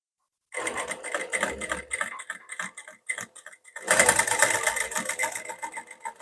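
Sewing machine stitching a dart on a double katori blouse, running in several short bursts with brief pauses, then a longer steady run, close and loud with no talk.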